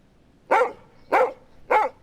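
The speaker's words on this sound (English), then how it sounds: "Oh, sorry guys, my dog's out." A pet dog named Wishbone barks three times at a steady rhythm, each bark sharp and mid-loud, with quiet room tone between.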